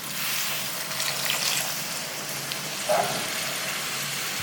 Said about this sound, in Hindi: इसके अंदर हम आधी प्याली पानी डाल देंगे